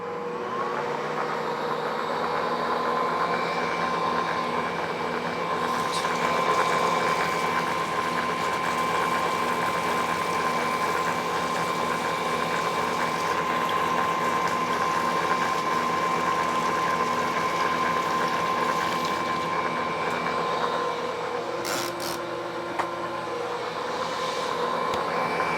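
An Ankarsrum stand mixer running on a turned-up speed while mixing vanilla cupcake batter from fresh milled flour: a steady loud motor hum with a rhythmic mechanical whir, continuous throughout, with a brief clunk near the end.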